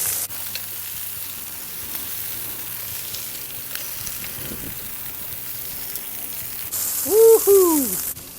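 Beef slider patties sizzling on a flat griddle, a steady close frying hiss that fills the clip, joined near the end by a brief tonal squeal and hiss.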